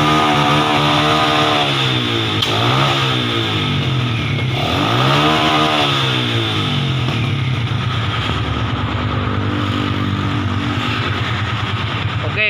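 A Yamaha Vixion motorcycle engine, started cold, runs steadily and loudly, with several rising revs early on before settling into a rough, continuous idle.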